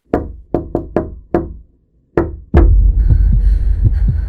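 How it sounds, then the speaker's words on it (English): Knocking on a door: six sharp knocks in an uneven pattern, loud and close, followed by a sudden heavy rumbling noise. "It was the same knocking pattern that I had been hearing for the last several nights."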